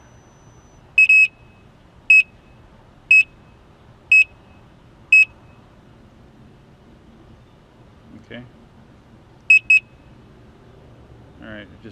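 A Gotway Msuper V3 electric unicycle gives a string of five short, high electronic beeps about a second apart during level calibration, then a quick double beep a few seconds later. A voice speaks briefly between them.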